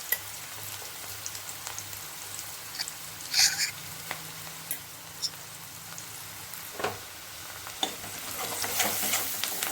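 A pan sizzles steadily as turmeric goes in, with occasional sharp clinks and scrapes of a spoon stirring, close up and quiet, with no voices.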